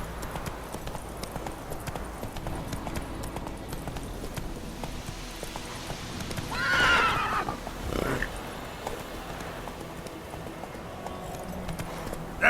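Roach the horse's hooves clip-clop steadily at a walk in The Witcher 3, with a brief whinny partway through over quiet game ambience.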